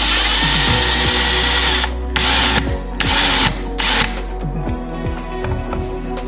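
A power drill bores holes into a wooden newel post in several loud bursts of about a second each, with brief pauses between them, over a steady background hum.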